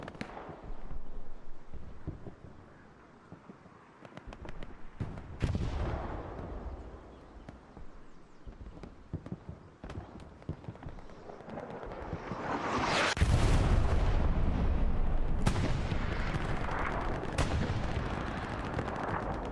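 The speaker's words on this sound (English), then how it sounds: "Commander Tinney nonetheless sending that airstrike or that bombing run." Airstrike bombing run in a 49 vs 49 online military game match: scattered gunshots crack at first, then a dense rolling barrage of heavy booms and blasts swells loud from mid-clip and carries on to the end.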